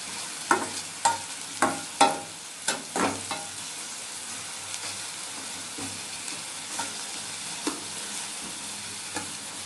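A cheese croquette mixture cooks in a pan with a soft sizzle under repeated scraping and stirring strokes, a run of close, sharp scrapes early on that spaces out and softens, no voices.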